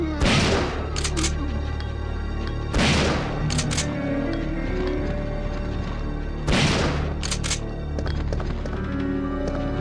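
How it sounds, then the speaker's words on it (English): Three heavy, widely spaced booming shotgun blasts against zombies in the 1999 game Resident Evil 3 Nemesis, each followed by clattering impact noises over a steady droning game soundtrack. "and then I'm going to use the shotgun"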